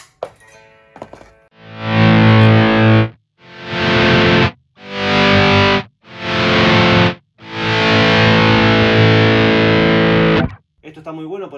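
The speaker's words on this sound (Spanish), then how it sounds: "si activo una distorsión, vamos de nuevo al Timmons" An electric guitar played through a distortion pedal on a pedalboard rings out in loud, sustained, heavily saturated chords in several separate bursts, with brief quiet gaps and some faint clean picking at the start.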